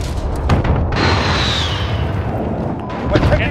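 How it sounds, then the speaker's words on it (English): Airstrike explosions and gunfire in Call of Duty Modern Warfare multiplayer, heavy booms and thuds mixed with shots and a rising whine, with in-game voice callouts over the top. "Friendly precision airstrike on the way."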